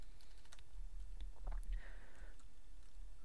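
A few scattered, quiet clicks from a computer keyboard come in light bursts, with a faint hiss behind them and no speech.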